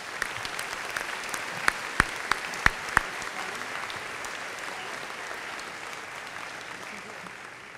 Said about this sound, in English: Please join me in giving Mike a round of applause for his service